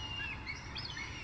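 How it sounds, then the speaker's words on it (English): Jungle birds in the game Final Fantasy XIV call faintly over a steady ambient hum, a few thin whistling chirps rising and falling in the distance. "Creepy birds."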